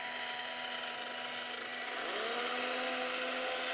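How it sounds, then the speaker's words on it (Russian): An L293D motor-shield robot's two DC motors spin its wheels with a steady, close electric whine that shifts upward in pitch partway through and then holds; no one speaks. "Одно колесо крутится и второе колесо крутится."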